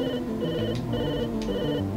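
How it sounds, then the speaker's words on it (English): A telephone rings in Stranger Things 3: The Game, a repeating electronic ring over a steady game music bed, with two short bright bursts about half a second apart, moderately loud and with no talking. "Find another ringing telephone."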